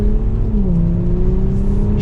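A 2023 Audi S5 Sportback pulls forward at roughly half throttle in normal mode, its engine giving a steady, smooth drone that climbs slightly in pitch as it gains speed, heard from inside the cabin.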